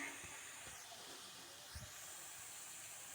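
Cauliflower sabzi steams in a covered pan, a soft continuous hiss with faint knocks from the pot and lid underneath.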